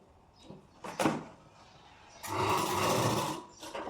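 Electric sewing machine stitching a blouse neck: two short motor bursts followed by a longer steady whirring run of stitching, close by, with no talk over it.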